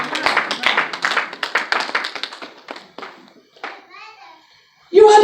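A congregation at a church leadership conference claps in quick rhythmic bursts mixed with voices, the clapping thinning out after about three seconds before a sudden loud noise at the end.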